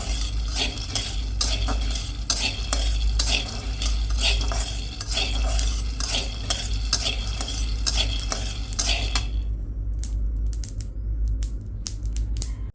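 Bathua greens frying in oil, stirred with a utensil in a pan: steady sizzling with rhythmic scraping and clinking strokes, close and loud, before the stirring stops and the sizzle quietens near the end.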